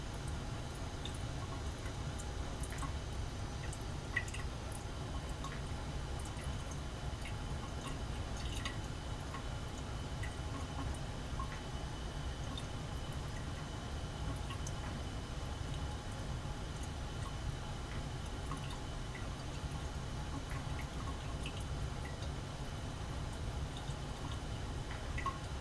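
Tap water runs steadily into a lab sink during an n-butyl reaction setup, a continuous soft trickle with scattered faint drips, fairly quiet and unbroken for the whole stretch with no voices.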